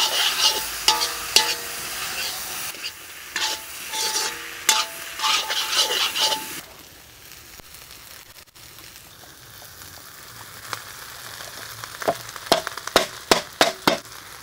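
Gobi fried rice being tossed and stirred on a high flame, with a soft sizzle under repeated scraping and clanging strokes of a spatula against the pan, growing quieter midway and then picking up again.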